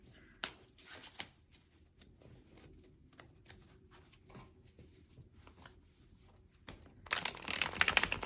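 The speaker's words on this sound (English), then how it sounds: "I'm going to try and talk while I'm shuffling" Soft riffling and tapping of tarot cards being shuffled in short bursts, then a louder rush of shuffling near the end.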